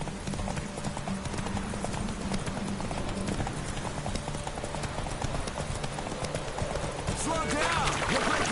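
Hoofbeats of the horse Roach galloping in a video game, a steady rapid clip-clop running throughout over a continuous game soundscape, with a voice talking over it.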